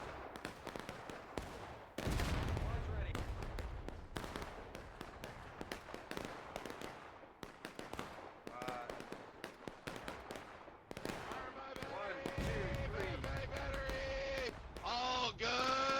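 An artillery barrage in a war video game, with repeated booming blasts and crackling bursts that layer into a dense, loud, continuous rumble.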